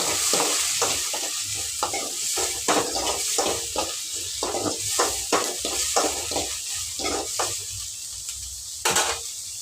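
Ingredients stirred in a cooking pot over the heat, a rapid series of scraping spoon strokes against the metal over a light sizzle, close and steady, with no talking.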